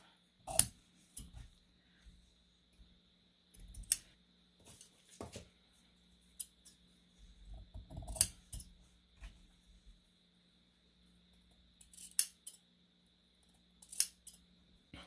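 Scissors snipping small V-shaped notches into a fabric seam allowance, a series of sparse, crisp close cuts with quiet pauses between them.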